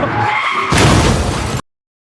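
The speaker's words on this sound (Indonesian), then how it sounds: "Dan tiba-tiba ia menabrak mobil Willa dengan keras." A car slams hard into another car in a film scene: a loud, dense roar of skidding builds into a heavier crunching impact, then cuts off abruptly into silence.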